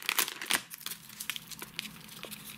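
A small plastic bag holding fishing tackle and rigs crinkles in short bursts, close and fairly quiet, with no talk over it.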